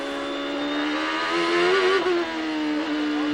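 A 2003 Champ Car race car engine roars during qualifying at the Monterrey Grand Prix, a loud continuous drone whose pitch rises and dips slightly as the car runs on track.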